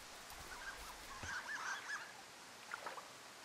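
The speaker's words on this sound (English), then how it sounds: "Was that a duck whistle or something?" A duck whistle call heard in the video game Firewatch, several short, thin honking toots in a brief cluster, faint and distant over quiet outdoor ambience, then one more isolated toot.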